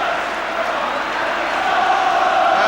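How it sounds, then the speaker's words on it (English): Tottenham Hotspur supporters at the 1984 UEFA Cup Final chant for Danny Thomas, a loud, massed stadium singing that swells slightly toward the end and carries on steadily throughout. "The Spurs crowd are shouting there's only one Danny Thomas to keep his spirits up"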